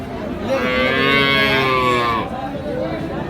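A young calf at a rural cattle market lets out one long, loud moo up close. Murmuring voices and market bustle sit beneath it.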